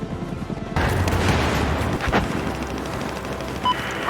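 Gunfire from a machine gun in the video game Battlefield 4, a dense continuous barrage of loud shots and booms filling the whole clip, starting abruptly after a quieter opening.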